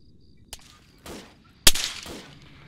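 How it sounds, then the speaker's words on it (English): Scattered gunshots ring out in Arma 3: a faint distant pop, a softer report, then one loud close crack with a trailing echo, all against quiet surroundings. "Someone's shooting at you guys"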